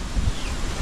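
Wind gusts buffet the microphone outdoors on a mountainside, a continuous low roar with soft rumbling swells and no voices.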